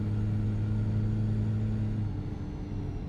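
A Toyota SUV mod engine in Euro Truck Simulator 2 drones in a steady, close, even hum that eases slightly in loudness toward the end, with no talking.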